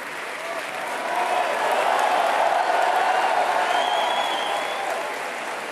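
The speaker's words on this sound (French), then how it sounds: "Merci à vous de les avoir tous et toutes applaudis à l'instant." A large crowd at Emmanuel Macron's 2017 French presidential election first-round night rally applauds steadily. The applause swells in after a second, holds as a dense, even roar, and eases slightly at the end.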